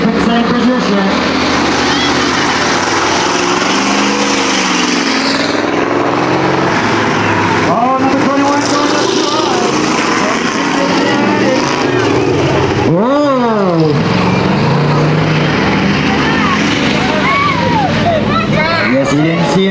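Eight-cylinder stock cars race through the first heat of a ten-lap event, engines roaring continuously with a rising and falling pass-by whine partway through, while a crowd murmurs and people talk over the din.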